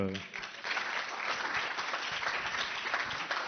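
Audience applause at an awards ceremony for a business and startup event in Provence, a dense, steady wash of many hands clapping that starts abruptly and holds at a loud level throughout.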